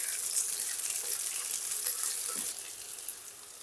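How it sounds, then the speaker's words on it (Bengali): Malabar spinach stalks frying in a pan while being stirred, a continuous bright hiss of sizzling oil that eases slightly toward the end, heard alone. "এটাকে একটুখানি ভেজে নেব।"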